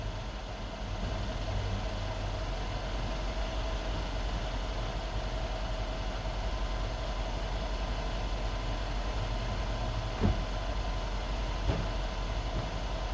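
A 2013 Mercedes SL550 Bi-Turbo rumbles with a low, steady engine drone heard from inside with the top down, a constant muffled hum with a couple of faint clicks near the end and no voices.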